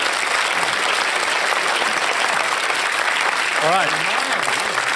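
A studio audience on a TV panel discussion program applauds steadily and loudly, thanking the panellists including Christopher Hitchens. Dense, continuous clapping fills the whole stretch, with a brief spoken voice rising over it near the end.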